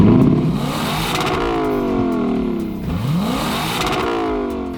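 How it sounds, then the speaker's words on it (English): A Lexus LC500's 5-litre direct-injected naturally aspirated V8 revs hard and loud, with rising engine pitch sweeping up through repeated accelerations and a brief lift between pulls, alone and close. "That sound comes from a 5-litre direct injected, naturally aspirated V8 from the GSF and makes 470 horsepower and 540 Nm of torque"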